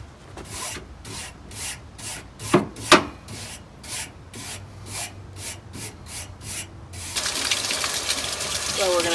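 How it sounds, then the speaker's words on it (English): Water sprayed over a dirty machine during a cleaning pass, a steady gushing rinse that starts near the end after a run of scrubbing and rubbing strokes, fairly close. "we're going to do a pass with water to get the big stuff off"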